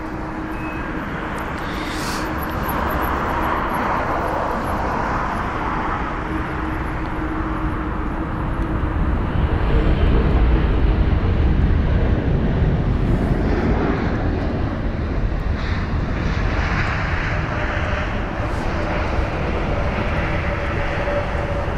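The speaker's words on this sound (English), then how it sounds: "up next, going to be the Austrian Airlines A320neo with the reg Oscar Echo Lima Zulu Papa OELZP from Vienna" An Austrian Airlines A320neo arrives at London Heathrow with a loud, steady jet roar that swells slightly midway and holds without any voices.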